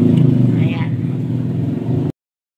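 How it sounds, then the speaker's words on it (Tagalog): Many motorcycles rev on a street at night, a loud continuous engine drone with rising throttle swells and some clatter, while someone talks over it until it cuts off abruptly. "Sobrang ingay na kasi ang daming mga motor na"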